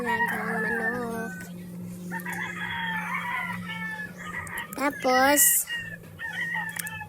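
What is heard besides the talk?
chickens and rooster crowing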